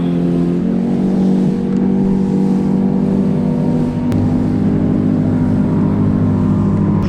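Boat outboard engine pushed to full throttle around 6000 rpm, a loud steady motor drone with a strong low harmonic hum, holding constant throughout without talk.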